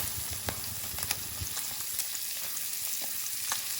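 A breast pressed flat and frying in a hot pan, a steady close sizzle with scattered crackles and small pops running throughout, no talking.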